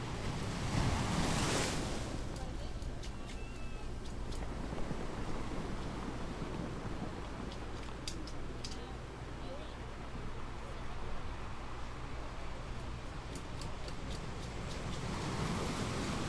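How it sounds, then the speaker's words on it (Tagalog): Steady roar of surf washing onto Dolomite Beach along the Manila Baywalk, with wind buffeting the microphone and a louder wave surge near the start. "Sarap ng alon."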